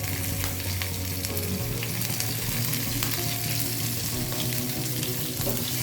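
Green chilies and ginger sizzling with cumin seeds in hot oil, a loud, continuous frying hiss from up close with a steady low hum beneath it.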